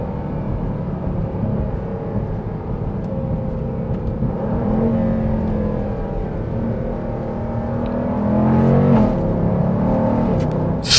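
2024 Dodge Durango SRT 392 accelerating hard in track mode, its engine droning steadily upward with a rising whine, then a quick gear shift near the end as the pitch drops, heard from inside the cabin.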